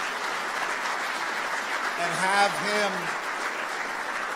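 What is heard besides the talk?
audience applause in memory of Delano Stewart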